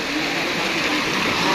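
River water flowing in a steady, dense rush that holds evenly through a short stretch, fairly loud and close with no clear voices over it.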